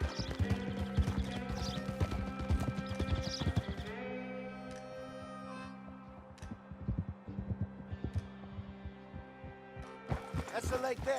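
A horse galloping in Red Dead Redemption 2, its hooves beating in a quick, steady clip-clop near Moonstone Pond, close and continuous, with a brief pause midway under music and a speaking voice.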